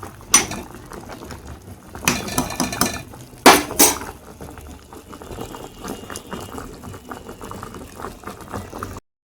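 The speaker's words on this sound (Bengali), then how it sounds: "ফুলকপিটা একটা আলু দিয়েছি দিয়ে একটু হালকা একটু ভাপ দিয়ে নিচ্ছি" A pot of cauliflower and potato steaming on a home stove, a low bubbling hiss under a few loud clanks and rattles of lid and utensils early on, then a quieter steady simmer.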